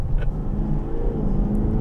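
A Range Rover with a 4.5 litre V8 diesel pulls hard under acceleration, a steady deep rumbling drone heard from inside the cabin, continuous and fairly loud for the whole short stretch with no talk.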